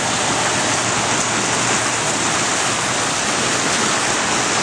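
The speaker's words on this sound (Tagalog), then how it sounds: "Signature na Niagara Falls." Niagara Falls roars as a dense, steady rush of falling water, loud and unbroken for the whole stretch, with no voices over it.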